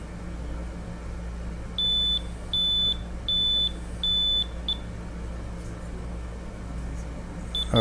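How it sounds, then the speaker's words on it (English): A multi-gas detector being switched off on board a ship gives four evenly spaced electronic beeps followed by a short fifth chirp, loud and close over a steady machinery hum. "again we going to switch off this multi-gas detector"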